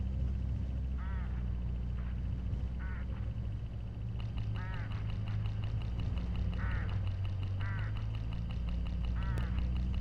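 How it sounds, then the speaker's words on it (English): Hooded crows call along a road in the video game Hitchhiker: about six short raspy calls at irregular intervals, moderately distant, over a steady low engine-like hum with no talk. "Crows all along this road. I have to chase these for my farm every harvest."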